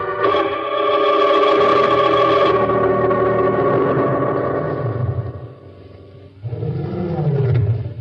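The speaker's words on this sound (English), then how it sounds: "Somewhere in the distance, a lion roared." A lion roars as a radio drama sound effect, loud and drawn out with a deep, rumbling, tonal growl that swells, fades into a brief lull, then returns with a second heavy roar.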